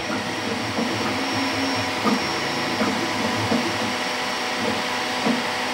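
A Creality K1 Max 3D printer runs close by with a steady, dense whirring hum, broken by faint periodic knocks and thumps as the frame shakes during printing.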